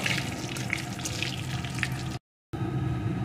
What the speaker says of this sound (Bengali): এখন ফোড়নগুলোকে সুন্দর করে ভেজে নেব।